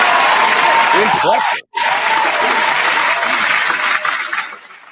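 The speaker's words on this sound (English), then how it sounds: "Round of applause to you for that." A studio crowd on a mixshow gives a loud round of applause and cheering, sustained clapping that cuts out briefly and then resumes, with voices talking and exclaiming over it.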